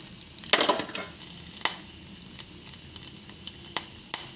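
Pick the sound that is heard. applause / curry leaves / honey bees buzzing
curry leaves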